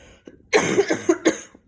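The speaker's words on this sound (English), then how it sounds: "I'm going to start coughing a lot" A burst of several harsh coughs in quick succession, close and loud, after a brief quiet lead-in.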